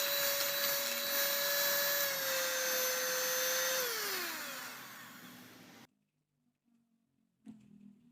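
An electric hand mixer whirs loudly and steadily while it beats chocolate cupcake brownie batter. Its pitch drops as it slows, then it cuts off abruptly. A soft clatter follows in near silence.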